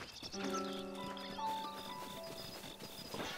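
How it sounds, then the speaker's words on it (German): A horse in the video game The Legend of Zelda: Breath of the Wild, with a drawn-out whinny-like tonal call and soft hoof and ambient sounds around it, fairly faint amid game atmosphere. "läuft unser Pferd rum."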